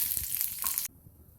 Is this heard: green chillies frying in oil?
yes